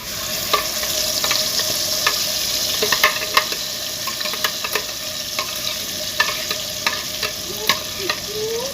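Ground onion paste frying in a pan, a constant bright sizzle with regular spatula stirring taps and scrapes throughout, loud and close.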